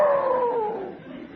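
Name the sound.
person imitating a dog howling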